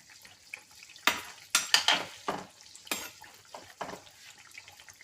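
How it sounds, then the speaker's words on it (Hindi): Bomboloni deep-fry in oil amid a quiet kitchen, with several close bursts of stirring, scraping and bubbling that come in short irregular spurts over a faint background sizzle. "हमें इसी तरह दोनों तरफ से अच्छी तरह से फ्राई कर लेना है।"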